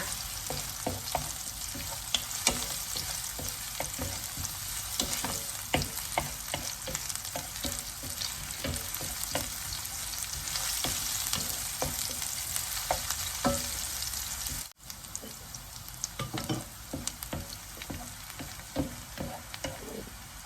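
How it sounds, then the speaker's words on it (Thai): Thinly sliced shallots sizzle and crackle in hot oil while a spatula scrapes and stirs the pan in repeated strokes, steady frying throughout, cooking pad thai with shrimp. "ผัดหอมแดงให้หอมอร่อยนะคะ"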